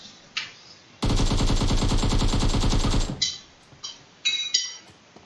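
Automatic gunfire in the PUBG video game from a flying cheater: a loud two-second burst of rapid shots, followed by scattered single distant cracks and clinks.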